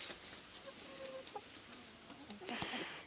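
Chickens cluck softly in the background, with a few short calls scattered over low outdoor ambience.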